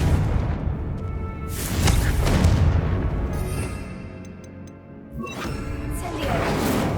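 A Confringo fire spell in Hogwarts Legacy goes off with a broad booming blast that swells and rolls for a few seconds, followed by a second burst of crackling impact near the end, under a dense background of combat noise.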